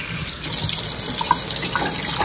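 Tap water running onto dyed yarn being rinsed in a sink, a steady close splashing flow that starts after a quiet half second and continues to the end.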